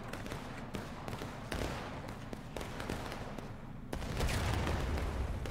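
Artillery shot striking a tree in the Civil War battle game Ghosts of Antietam, a series of sharp distant impacts over steady battlefield rumble, growing louder and denser toward the end.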